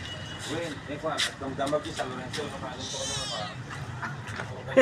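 A cat meows a few times close by, its calls mixed with people talking and general background noise.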